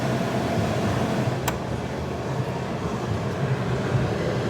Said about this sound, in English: This one's the compressor only kick on.